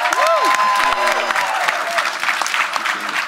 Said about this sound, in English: Let's give a thunderous round of applause to the 7th president of the great Bethune-Cookman University, Dr. LeBrent Kreit.